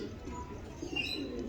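Pigeons of the lori and fancy breeds cooing softly in a low, continuous murmur, with a faint higher chirp partway through and no clear speech.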